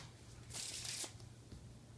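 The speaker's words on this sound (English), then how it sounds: "with a completely shuffled pack. So let me just give it a shuffle" A deck of playing cards is shuffled once for a card trick in a brief, crisp riffle, close and clear, with a couple of soft handling taps afterward.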